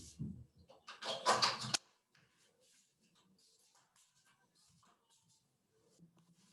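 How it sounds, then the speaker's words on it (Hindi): Indoors, a door is pushed shut with a short burst of rattling and a thud near the start, followed by faint shuffling and quiet room noise. "मैं दरवाजा बंद करके आऊं"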